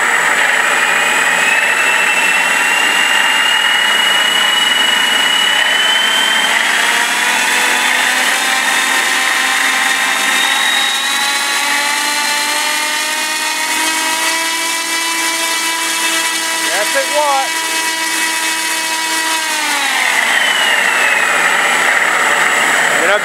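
Sound module mimicking the engines of a model B-25 bomber as the throttle is raised, a loud continuous droning hum that slowly rises in pitch, then drops sharply near the end.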